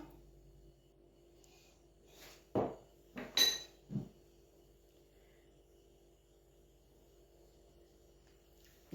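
A few sharp clinks and taps against a mixing bowl as two eggs are added, then a soft crack and a brief knock, with quiet gaps between them.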